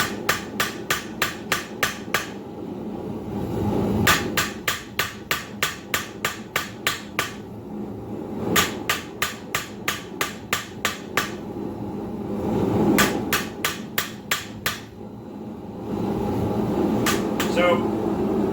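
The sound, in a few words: blacksmith hammering hot steel while forging a heart hook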